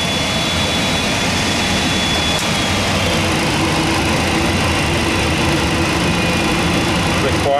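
MD-10 jet engines roar loud and close in a continuous broadband rush, with a steady high whine running through it and no talk.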